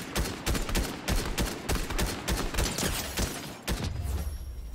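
Rapid bursts of gunfire from a Fortnite firefight aimed at a tree, repeated shots in quick clusters for several seconds, loud and close, before the firing thins out at the end.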